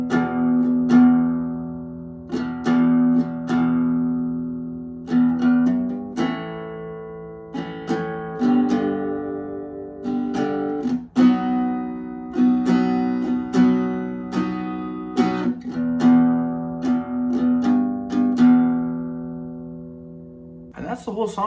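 An acoustic guitar plays a song slowly from start to finish, steady strummed chords and single-note runs sounding close and clear for about twenty seconds with no talking.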